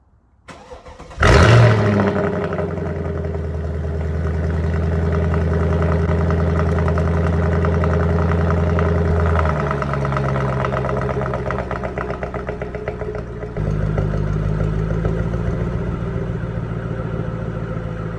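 A car engine cranks and catches, then settles into a steady, loud idle that runs on alone with small shifts in tone and no talking.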